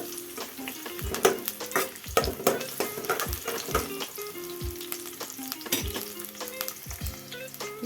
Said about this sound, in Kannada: ಇವಾಗ ಎಣ್ಣೆ ಬಿಸಿಯಾಗಿದೆ, ಇದಕ್ಕೆ ಈರುಳ್ಳಿ ಹಾಕೋತಾ ಇದ್ದೀನಿ.